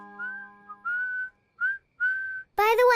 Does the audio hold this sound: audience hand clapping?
no